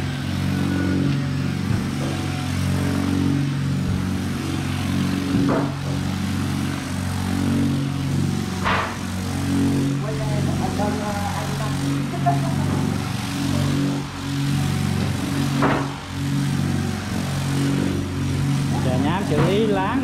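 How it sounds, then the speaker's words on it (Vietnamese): A worker sands a surface by hand to prepare it for painting, a grinding hum from machinery running steadily underneath, with people talking over it. "Rồi anh thợ đang chà nhám."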